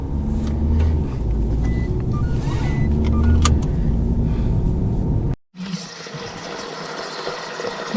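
Car interior on the drive home with a kitten aboard: a steady engine and road rumble drones loudly, then cuts out sharply for a moment before a thinner, steadier hum resumes; no speech.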